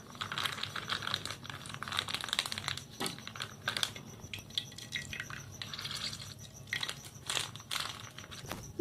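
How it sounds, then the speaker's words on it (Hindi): Hot ghee crackles and spits in a pan in a home kitchen, a dense close sizzle of sharp pops and crinkly snaps that rises and falls without talk. "घी हमारा तड़क रहा है जोरों शोर से।"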